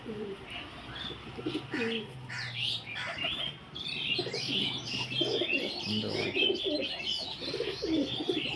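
Several pigeons coo continuously inside a loft, overlapping throaty calls and higher chirps rising and falling close by, with no talking.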